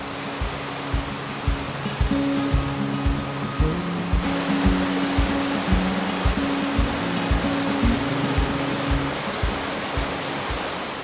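A waterfall in Argyll, Scotland, seen up close at its base where water drips off a small cliff, makes a steady rushing hiss that runs throughout beneath a rhythmic musical beat.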